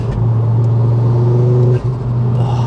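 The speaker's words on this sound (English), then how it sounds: "induction noise, the exhaust noise, it's just a pure beast" A Ford Focus RS Mk2 hot hatch runs loud and close, its engine giving a steady low drone layered with induction and exhaust noise and a faint rising tone, then a brief dip before the note settles back.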